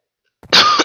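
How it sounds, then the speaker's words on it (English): A single sharp, close cough bursts out, followed by a brief second catch of breath. "I got a cough."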